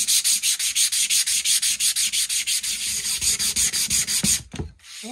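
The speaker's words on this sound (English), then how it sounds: "So let me sand this a bit." Sandpaper rubbing rapidly back and forth over a spalted wooden piece being smoothed at the bench, a loud, close, rhythmic rasp of quick even strokes that stops near the end, followed by a few faint handling noises.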